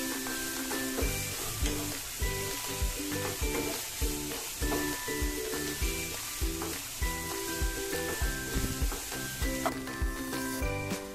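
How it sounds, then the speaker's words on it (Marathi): Three finely chopped onions fry over medium heat while being stirred, with a continuous close sizzle broken by regular spoon scrapes and knocks against the pan. "कांदा आपल्याला पूर्ण भाजून घ्यायचा आहे,"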